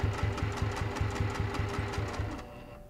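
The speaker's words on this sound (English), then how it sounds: "You're gonna sew to a quarter inch away from the edge and pivot." A sewing machine stitches quilt binding in a steady, rapid run of regular mechanical pulses, close and fairly loud, slowing and stopping near the end with no talking.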